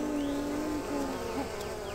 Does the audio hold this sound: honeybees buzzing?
yes